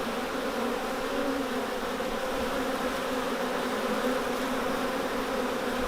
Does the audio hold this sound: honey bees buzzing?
yes